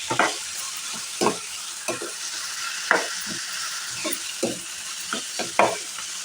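Chopped tomatoes frying with dal in a pan, with a steady bright sizzle running throughout and a dozen or so scraping, clinking stirs of a spoon against the pan, close up and without voices.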